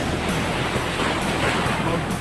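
Large ocean waves rush and roar in a dense, steady wash of surf close by, with wind noise buffeting the microphone throughout.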